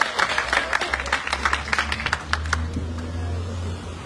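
A scattered audience claps for a third-place winner at a national schools drama festival, moderately loud at first, then thinning out and fading under a low background hum.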